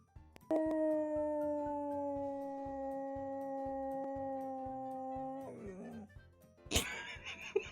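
A dog howls in one long, sustained, tuneful note, almost like singing, holding steady for several seconds before wavering and breaking off, followed by a short burst of clatter.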